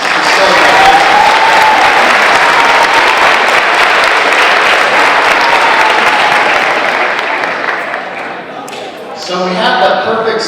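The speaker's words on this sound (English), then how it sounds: "Let's give a round of applause to all the students and staff that worked so hard to make this facility." A gym full of people at an alumni awards event bursts into loud, steady applause that holds for about eight seconds, then thins out as a speaker's voice returns over the last few claps.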